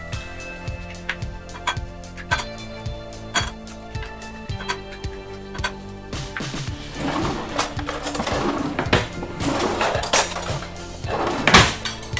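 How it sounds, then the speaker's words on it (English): A fork rapidly beats six eggs in a bowl for a Spanish potato omelette, producing quick, rhythmic clinks and scrapes against the bowl, close and fairly loud, with some sharper knocks at the start before the whisking settles into a steady patter. "We can use a fork to mix them well."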